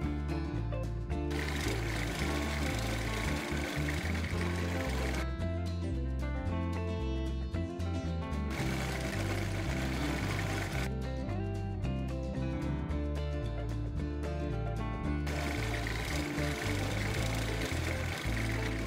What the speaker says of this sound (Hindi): अब यहाँ से साइड्स की सिलाई भी कर लेंगे।